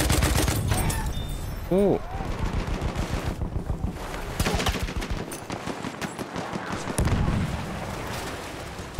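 Teammates fire at close range in Battlefield 1, a rapid string of loud machine-gun shots and heavy bangs in bursts across the battle, with a short spoken exclamation among them.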